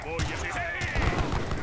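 Musketeers volleying in Age of Empires 3, a rapid cluster of sharp gunshot cracks in quick succession, mixed with battle clatter and a few overlapping reports, fairly loud and busy.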